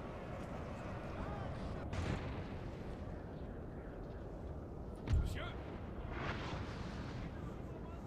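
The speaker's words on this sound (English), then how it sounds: "Cannons here giving fire to something." Distant cannon booms in Napoleon: Total War's Battle of Borodino thud a few times beneath a constant rumbling battle din, with a couple of sharper blasts standing out.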